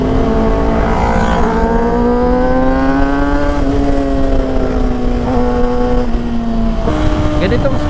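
Kawasaki ZX6R sport motorcycle on the throttle during a Batangas ride at about 113–125 km/h: a steady, loud harmonic engine drone that slowly rises and falls in pitch and dips near the end, with wind rush throughout.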